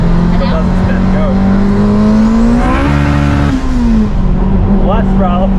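A 700whp all-wheel-drive Honda Civic Si launches and accelerates hard, its engine loud and close, the pitch climbing through a sustained pull, dipping at a shift, then rising again, with brief voices around it.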